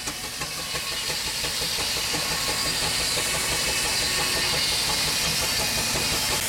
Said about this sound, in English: You can hear the power of the traction engine there